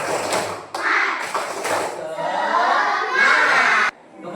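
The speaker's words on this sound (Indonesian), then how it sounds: "ayo kita tepuk semangat" A school class performs a tepuk semangat clapping chant, with bursts of rhythmic clapping and children's voices chanting together in short, lively phrases.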